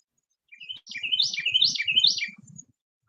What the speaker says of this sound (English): I think the bird wants some.